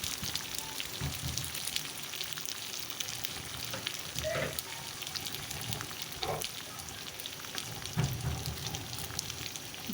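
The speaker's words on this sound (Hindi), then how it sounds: "तो थोड़ा सा हम भून लेंगे ऐसे ही।" Masala with green chillies roasts in a pan for Hyderabadi mirchi ka salan, a steady, even sizzle and frying hiss running throughout with faint stirring scrapes and no talk.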